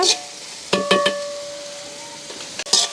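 Onions and green chillies sautéing in a pan for a bread kottu, giving a steady low sizzle with a few short stirring scrapes and clinks, close by and without talk.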